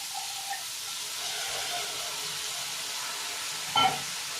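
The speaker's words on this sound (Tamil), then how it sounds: "கேரட் போட்டு நல்லா கிண்டி விட்டுட்டதுக்கப்புறமா பட்டாணி போட்டுக்கணும்." Carrots and peas frying and sizzling in a pan as they are stirred, a steady soft hiss with a brief clink of utensil near the end.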